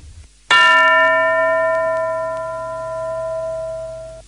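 A single bright bell strike rings out after a short pause, its clear tone sustaining and slowly fading over several seconds.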